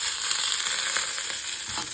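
Garlic, tamarind and curry leaves fry in hot oil in a pan for a groundnut and coconut chutney tempering, giving a steady, close hiss of sizzling with a few soft stirring scrapes and no talk.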